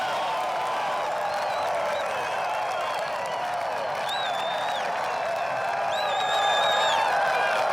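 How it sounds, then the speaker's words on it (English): A golf gallery at the 2001 Bay Hill Invitational gives Phil Mickelson a sustained ovation after his shot, with steady applause and cheering plus occasional whistles and whoops. "he's gotten the loudest ovation here"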